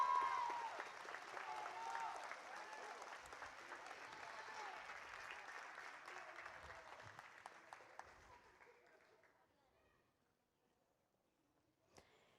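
An audience at an annual gala applauds warmly for a teacher, a dense, lively round of clapping that slowly thins and fades out, ending in near silence with one stray late clap.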